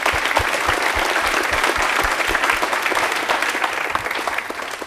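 Loud, sustained applause from a crowd of schoolchildren at a rail-themed quiz programme, dense steady clapping running the whole stretch without talk.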